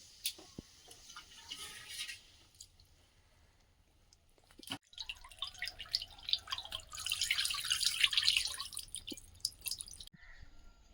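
Water drips and trickles while rice is rinsed in a village kitchen, with scattered close drops early on and a denser, louder splashing stretch in the second half, then a brief quiet.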